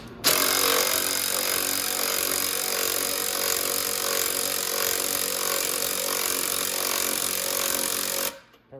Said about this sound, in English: now we're going to raise the bike up a bit so we can get that triple tree off